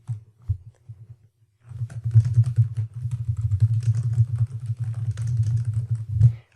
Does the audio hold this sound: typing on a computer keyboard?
yes